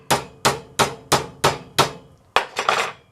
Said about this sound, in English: I'm going to go ahead and anvil it over a little bit here.